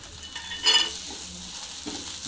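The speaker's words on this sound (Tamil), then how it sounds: "இப்போ தேங்காய் துருவலை கொட்டேன்." Grated coconut tipped into a pan of well-roasted onions for coconut rice, a steady sizzle with a brief louder burst as it lands, followed by soft stirring scrapes.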